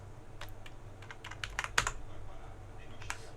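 Quick keystrokes on a computer keyboard during spreadsheet data entry, a close, light flurry of clicks with a few louder taps.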